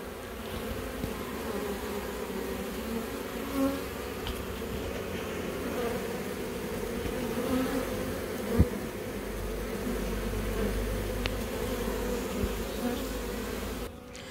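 Honeybees swarm at a widened hive entrance, their steady buzzing hum continuous and fairly close, with individual bees zipping past now and then.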